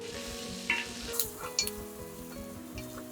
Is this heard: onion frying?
yes